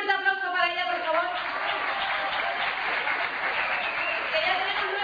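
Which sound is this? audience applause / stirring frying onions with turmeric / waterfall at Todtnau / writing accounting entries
audience applause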